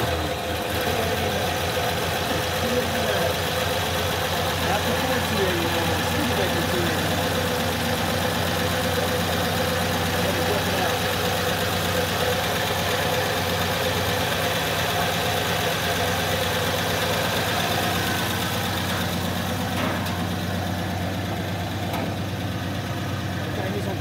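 A big old Studebaker V8 in a Hawk idles steadily and close by, a dense continuous rumble with a faint knocking texture running for the whole stretch.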